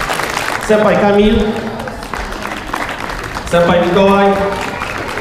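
An audience applauds after a karate show. Bursts of clapping rise and fade beneath a voice loudly calling out names over the crowd.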